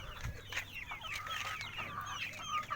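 Chickens clucking in hot weather, with several overlapping short clucks and calls repeating close by at an irregular pace over a soft background, with no talking.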